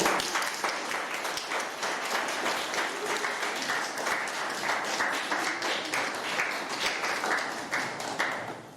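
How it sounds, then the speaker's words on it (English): An audience at a testimony event in Germany gives a thunderous round of applause, dense clapping that stays steady and loud throughout. "lasst uns mit einem großen thunderous round of applause willkommen heißen"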